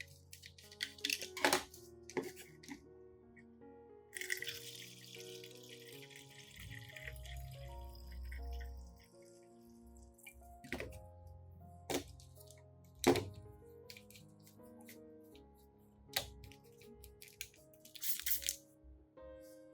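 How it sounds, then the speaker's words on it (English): Liquid garlic solution is poured into a spray bottle, with quiet trickling, drips and plastic thunks and clicks of the bottle handled nearby in an otherwise quiet room. "The remaining solution is poured into a spray bottle."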